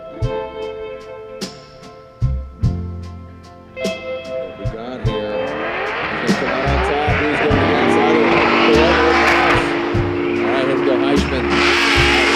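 Drift cars at a Formula Drift event, engines revving and banging off the limiter before tires break into a sustained loud squeal that swells and holds, with voices talking over the action.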